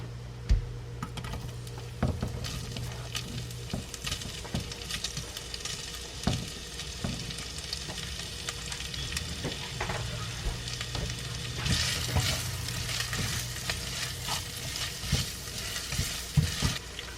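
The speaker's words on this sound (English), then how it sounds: "We're going to let this fry up for about 2 to 3 minutes." Andouille sausage frying in rendered bacon fat for red beans and rice, a soft, steady hiss with scattered small pops and light clicks of a utensil, close and fairly quiet, with no voices.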